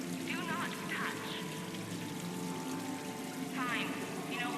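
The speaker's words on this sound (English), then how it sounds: "Please do not touch the waterfall. The fountain is decorative." Decorative fountain water pours and flows steadily in a casino setting in Mass Effect 3, a continuous splashing wash heard under game chatter and voices speaking nearby.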